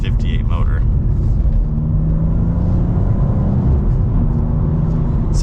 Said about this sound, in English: And there is some top end to this S58 motor.